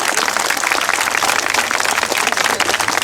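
Applause from a crowd at a gathering of job aspirants, a steady dense patter of many hands clapping close by with no voices over it.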